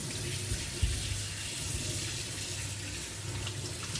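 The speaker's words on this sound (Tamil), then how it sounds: "அப்படியே தண்ணியில் வாஷ் பண்ணிடலாம்." Tap water running into a sink while prawns are washed, a steady broadband rush with a faint thump near the start, constant and alone without talk.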